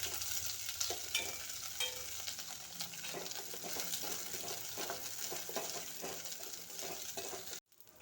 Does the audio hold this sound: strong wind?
no